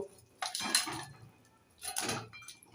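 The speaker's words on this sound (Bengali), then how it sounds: "এবার ঢাকনা তুলে দেখব একটু নাড়াবো" A lid lifts off a pot of Bengali chital fish curry in mustard-oil gravy, then a spoon stirs it: two separate bursts of close metallic clatter and scraping, with a quiet pause between them.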